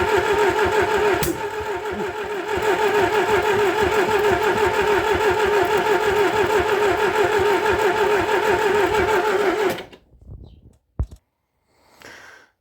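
A carburetted VAZ 21013 car is cranked with the choke pulled, the starter chugging in a fast, even rhythm for about ten seconds up close before it stops, followed by a few faint clicks.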